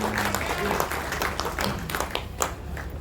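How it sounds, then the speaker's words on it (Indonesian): A crowd at Farhat Abbas's birthday celebration claps for an honored guest, a former Chief Justice of Indonesia's Supreme Court; scattered, uneven hand claps ring out close and loud over a low hum, with a voice faintly underneath. "Tepuk tangan dulu buat beliau."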